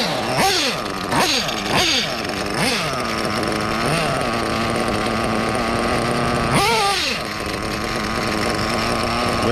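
A hobby model engine running on a blended fuel mix, its steady buzzing drone rising in sharp revving bursts as the mixture is richened and tuned; loud and close throughout.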